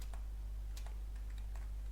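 Sparse, light keystrokes tap on a computer keyboard during a Farming Simulator 15 session, faint and irregular over a steady low electrical hum.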